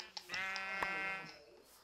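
A Minecraft sheep bleats once, a clear wavering baa of under two seconds, with a short click just before it in a plains setting.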